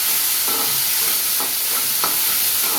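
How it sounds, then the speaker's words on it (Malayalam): Shallots and green chillies sautéing in hot oil in a pan, a steady close sizzle with a few soft stirring scrapes at irregular intervals, no voices. "ചെറിയ ഉള്ളിയും ഇടാം, അതിൻ്റെ കൂടെ പച്ചമുളക് ഇട്ടിട്ട് നല്ലപോലെ"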